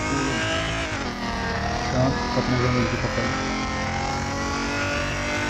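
A Honda S2000 revs hard with a loud, steady, harmonic-rich engine roar that holds for several seconds, up close, with a brief voice talking underneath.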